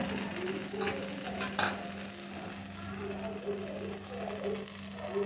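Thin dosa batter sizzles on a hot tawa for a home dinner, a steady close frying hiss with faint clinks of utensils, and a voice speaks briefly at times over it.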